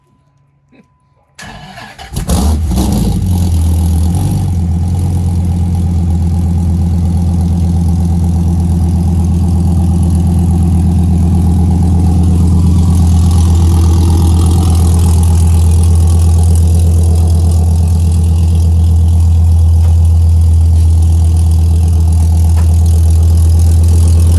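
A car engine cranks and catches on its first start after a brief quiet moment, then settles into a loud, steady, deep idle that continues close by for the rest of the clip.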